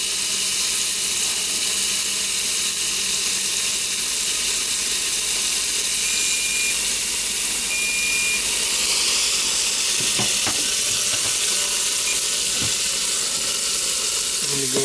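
A pot roast sears on its ends in a hot pan, giving a steady, loud sizzle and frying hiss throughout, with a few brief clanks near the end.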